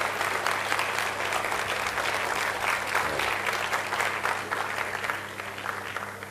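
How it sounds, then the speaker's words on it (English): Sustained audience applause at an MDRT Day 2013 gathering in Malaysia, honouring top-of-the-table members: dense, steady clapping from a large crowd, loud throughout and easing slightly near the end. "give them some applause"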